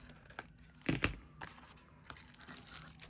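Scissors snip through a folded paper index card, a few quiet crisp cuts with one louder crunch near the start.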